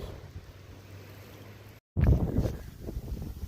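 Wind buffets a microphone beside water on rocky shoreline, a low steady rumble that breaks briefly, then returns louder and gustier with surf-like swells.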